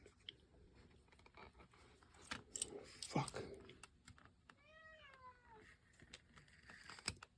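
A house cat meows once in a short rising-falling call, close to the mic, among the clicks and taps of a small workshop where brass strip is being measured with calipers.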